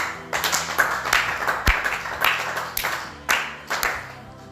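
A church congregation applauding for the Lord, a dense run of many hands clapping with uneven rhythmic surges, close and loud, no talking.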